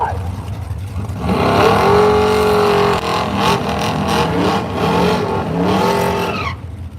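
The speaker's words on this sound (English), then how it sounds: "So Don Moore driving the very cool Gen 1 Corvette" Gen 1 Corvette with Hilborn injection drag racing at Brainerd dragway, a loud, close engine roar with tire squeal that holds steady for several seconds before cutting off abruptly, with a voice faintly mixed in.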